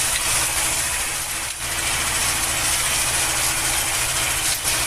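A T-25 tractor engine runs steadily in winter, a constant close low rumble with a brief dip near the start and another near the end, no voices.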